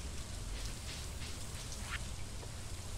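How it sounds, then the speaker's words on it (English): Rain falls in Stardew Valley, a steady close patter of drops with a soft low rumble beneath, constant throughout and with no talking. "still raining, I guess"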